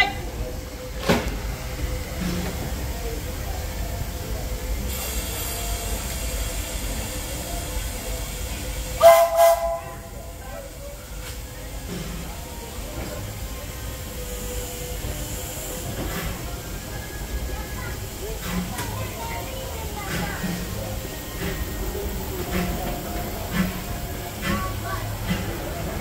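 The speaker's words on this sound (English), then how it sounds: "Welcome aboard the Disneyland Railroad." The Disneyland Railroad steam locomotive E.P. Ripley rolls past with steam hiss and rail noise, sounding one short whistle blast partway through, amid a bustling crowd with people talking.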